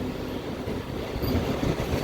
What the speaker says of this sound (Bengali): আমাদের ট্রেন অলরেডি রানিংয়ে রয়েছে